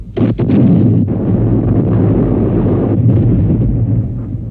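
Heavy First World War artillery, a thousand guns firing on a six-mile stretch of the French front, heard in archival footage as a loud, continuous rolling rumble of overlapping blasts with a few sharper cracks near the start.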